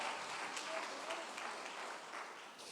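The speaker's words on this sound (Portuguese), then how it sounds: "As palmas para o Senhor" Faint, distant congregation applause in a church service, a steady wash of clapping with voices mixed in, fading slightly toward the end.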